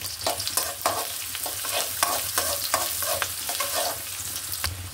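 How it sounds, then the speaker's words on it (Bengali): Green chilies and chopped onion fry in a pan with a continuous close sizzle, broken by a rhythmic series of stirring scrapes roughly every half second. "কয়েকটা কাঁচামরিচ দিয়ে দিচ্ছি, কিছু পেঁয়াজ কুচি। আমি এটা ভেজে নিব।"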